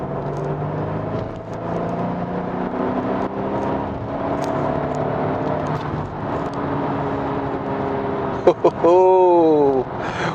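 A 2021 Kia Sorento's 281-horsepower 2.5-litre turbocharged gasoline engine hums and revs steadily at close range, with a brief rising whine near the end.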